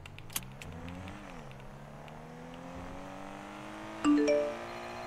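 A Nissan Skyline R34 engine in a video game idles and hums steadily at moderate level, with a brief sharp click early on and a louder rev swell near the end.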